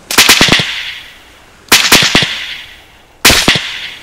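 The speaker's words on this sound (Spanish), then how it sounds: "¿por qué escucho ese disparo como si no tuviera nada? ¿No tiene supresor?" Unsuppressed rifle fire in the military shooter Arma 3, three loud sharp bursts of cracking shots, each followed by a decaying echo tail, evenly spaced roughly every one and a half seconds with no talk.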